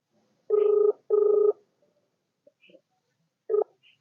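An Indian phone call keeps ringing with no answer: two long buzzing ringback tones follow each other closely, then after a pause a shorter third ring starts and is cut off, with faint clicks in between.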